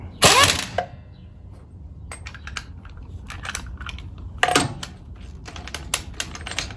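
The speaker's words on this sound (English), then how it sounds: "As soon as they're bottomed out, the impact will start hitting." An impact wrench fitted with a torque limiting extension hammers in two short, loud bursts, with faint clicks and tool handling in between.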